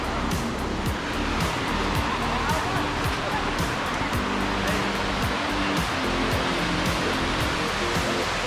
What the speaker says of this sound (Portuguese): Chegamos, pessoal, na Cachoeira do Jarrão. Ela está aqui na nossa frente.